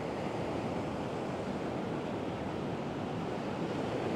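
Ocean surf at high tide on a Portuguese coast washes in as a steady, loud broadband roar mixed with wind buffeting the microphone, continuous with no distinct breaks and no talk.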